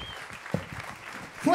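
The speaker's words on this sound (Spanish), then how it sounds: "Fuerte el aplauso." Audience applause at a live comedy battle show, a brief burst of clapping that rises near the end under a host's voice.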